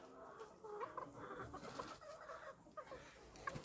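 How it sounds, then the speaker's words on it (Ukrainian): Soft clucks and small chirping calls from young chickens, close by and irregular, over a light background murmur. "А хто ці такі маленькі кури тут стоять?"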